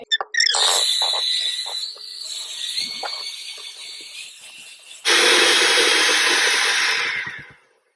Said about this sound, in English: we're going to want to get a hand mixer. With that, I like to use the whisk things